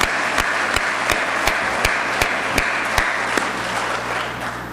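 Loud applause rolls through the audience at a Hindi poetry gathering, a dense close clapping roar punctuated by regular sharp thumps, fading slightly at the end.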